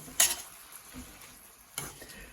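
Cauliflower pasta soup stirred in a pot, soft low scraping and sloshing with two sharp metallic clinks of a utensil against the pot rim.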